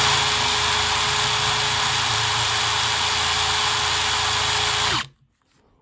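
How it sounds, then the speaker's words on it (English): An electric drill runs flat out in second gear with a loud, steady, high-pitched whine and motor drone for about five seconds, then cuts off abruptly into near silence. "does anybody know what speed this drill is meant to do flat out in second gear?"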